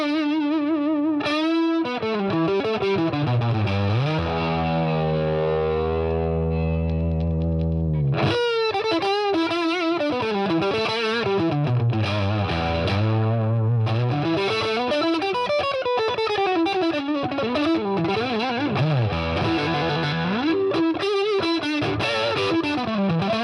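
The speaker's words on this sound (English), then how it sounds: "Let's see what it sounds like with the boost." Electric guitar played through a Boss Katana 50 MK II amplifier with the boost engaged, giving gritty, driven tone with sweeping, bending notes and sustained phrases, loud and continuous with a slight hiss and no talking.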